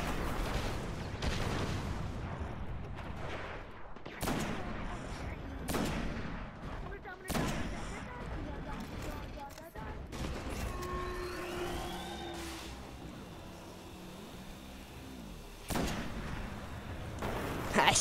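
Gunfire in the video game Destiny, sharp repeated shots with bursts spaced every second or two over a loud game soundscape, some electronic effects in between, with voices talking over the action.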